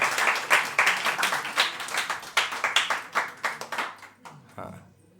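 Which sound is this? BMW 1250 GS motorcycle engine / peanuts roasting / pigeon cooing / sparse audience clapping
sparse audience clapping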